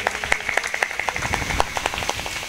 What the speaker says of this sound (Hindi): जोरदार तालियों से स्वागत करेंगे भैया का।